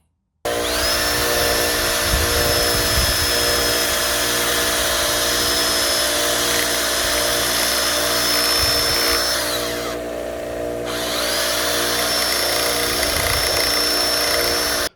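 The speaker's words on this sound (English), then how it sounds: "So that's it all ground down." Sustained grinding of a Wilwood brake master cylinder pushrod, a steady loud power-tool whine running almost continuously, briefly dropping out near the end before starting up again.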